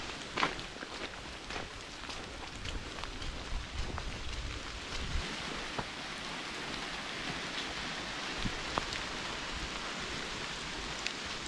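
Steady rain falls among maple trees in New England, a constant soft hiss with scattered nearby drops pattering on surfaces for over ten seconds, and no voices.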